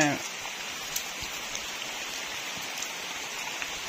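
Steady rain falls at a hillside cave shrine in a hilly area, a dense, constant close hiss with scattered drops tapping on surfaces throughout.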